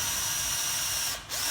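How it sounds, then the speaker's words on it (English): A power drill drives tech screws through two steel plates, a house jack stump and a 3mm inner steel plate, making a loud, close, continuous whine that briefly dips and then resumes. "this is screwing through the 2 plates of steel, the stump plus the 3mm steel on the inside"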